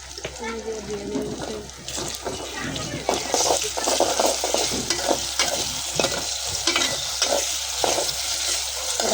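Ginger garlic paste sizzles and fries in a pot while being stirred for pulao, a steady frying hiss broken by scraping stirs, with someone talking over it.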